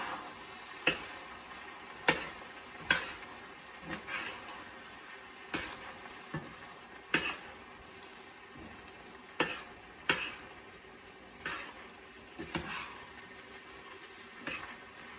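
Gallo pinto being stirred in a pan at a low simmer, a soft quiet bubbling hiss punctuated by about a dozen sharp spoon knocks and scrapes at irregular intervals.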